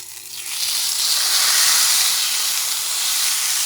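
Beef top round roast searing in a little extra virgin olive oil in a cast iron pan, giving a steady, loud broadband hiss that swells after the first half second and holds, with no talking.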